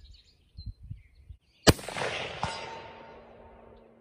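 A single sharp crack from a Remington CP 6.5 Creedmoor rifle is followed a moment later by a fainter smack of the bullet striking a target at 200 yards, then a fading outdoor echo, after a few soft bumps and handling noises.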